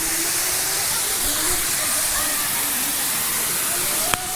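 Sirimane Falls near Sringeri roars as a dense, continuous broadband rush that fills the space, loud and close, with faint voices underneath and a brief click near the end.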